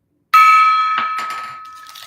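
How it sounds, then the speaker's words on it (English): A gong struck once for good luck rings out sharply and loud, its bright metallic tone decaying steadily, with a few light knocks or handling noises following. "Smash the gong for good luck."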